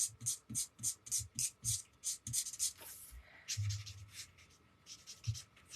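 A marker colours in a card with quick, rhythmic back-and-forth strokes, close and quiet, repeating steadily with a few brief pauses.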